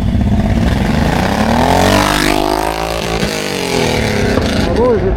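Motorcycle engines rumble and rev loudly at a season-opening parade, with a rising and falling engine whine sweeping through. Voices mix in beneath the engines.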